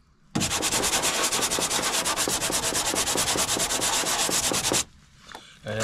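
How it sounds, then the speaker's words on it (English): Steady, loud rasping strokes of a sanding block worked by hand over a fibreglass front bumper for a 1992 Nissan 300ZX Z32, rubbing continuously for several seconds before stopping abruptly, with no talk. "sanding the whole bumper down ready for paint"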